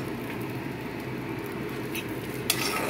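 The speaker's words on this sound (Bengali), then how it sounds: "কষানো তো চলছে, এই মতো অবস্থায় আমি আদা বাটা দিয়ে দিচ্ছি।" Spices with ginger paste are being sautéed in a pan, giving a close, steady sizzle with faint scraping, and a sharp clatter near the end.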